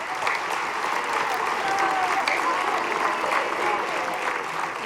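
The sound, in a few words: audience applause at a school winter concert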